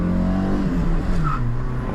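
A light 1989 Opel Vectra 1.6i with a 75 hp engine pulls away, its engine note a steady low drone from inside the cabin with a slowly rising tone and no talking.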